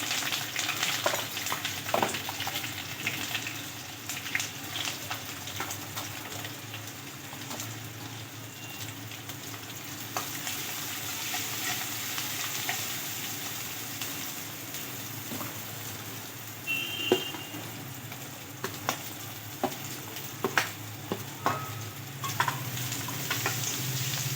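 Cloves, star anise, green chilies, curry leaves and grated ginger frying in a pan for Maggi rice, a steady close sizzle and crackle with scattered pops and stirring scrapes throughout.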